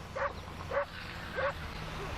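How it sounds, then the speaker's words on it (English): A neighbor's dog yapping, three short high yips spaced evenly apart over steady outdoor background noise, moderately distant. "Whole lot of yapping going on over there"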